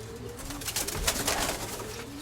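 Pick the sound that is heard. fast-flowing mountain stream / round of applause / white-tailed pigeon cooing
white-tailed pigeon cooing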